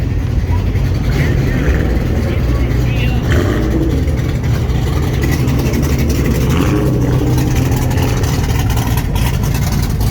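A Dodge Charger's 392 Hemi V8 runs loud and close, with a steady, unbroken engine rumble and no pauses throughout.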